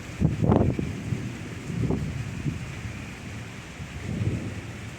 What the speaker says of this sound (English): if you hear thunder in the background